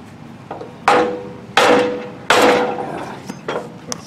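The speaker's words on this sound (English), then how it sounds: "Just a few more whacks, love taps, or whatever." Hammer blows striking a bushing to align it on an aluminum trailer, three loud ringing metallic whacks with short decays followed by lighter taps, close up.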